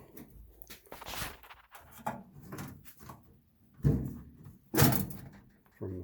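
A microwave oven's metal top cover, its screws already removed, slides back and lifts off in a few short scraping clunks, the loudest two close together near the end, heard up close amid quieter handling noise.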